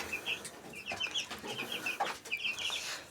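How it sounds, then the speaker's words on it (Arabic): A young rooster gives thin, high chick-like squeaks and short crow attempts among soft clucking from other chickens. The calls are close but faint against a quiet yard. "بيصوصو وبيرفع اذان، بس الاذان بصوت صوصو"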